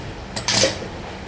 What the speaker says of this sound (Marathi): आणि कुकरचं झाकण लावून ठेवणार आहोत, कारण बंद कुकरमध्ये तो गरम राहतो